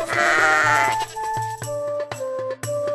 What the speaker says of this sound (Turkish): Babasının koyunlarını güdüyordu.